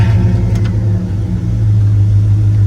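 A 1995 Dodge Ram 1500 V8 work truck engine running just after starting, a loud, steady low idle rumble that holds even for the whole stretch, with no voices over it.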